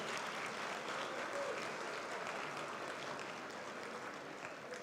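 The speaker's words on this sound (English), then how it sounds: "Elected officials, please stand so we can applaud you." Steady, continuous applause rises from an audience at a community event honoring elected officials, a full wash of clapping holding level for several seconds with no voices over it.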